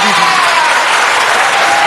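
Audience at a city council meeting breaks into loud, dense clapping that holds steady for the whole stretch, broadband and close, with no clear voices over it.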